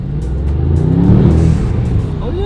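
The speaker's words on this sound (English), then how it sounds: "So I rolled the windows down so you guys can hopefully hear the bypass valves." A Mercedes S63 with a power upgrade revs steadily with its windows down, a low, throaty engine drone holding for a couple of seconds. A faint hiss and rising pitch sweep near the end may be bypass valves venting.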